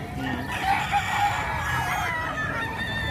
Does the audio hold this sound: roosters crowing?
yes